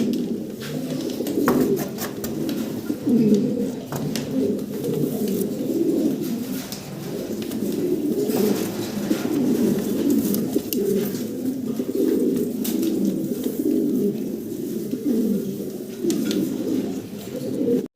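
Lahori fancy pigeons coo continuously in a steady, low, rolling murmur, several birds overlapping close by with no talk over them.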